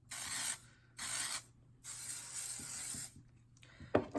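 Three bursts of aerosol hair spray, each hissing for about half a second to a second, the last one longest, followed by faint handling noises.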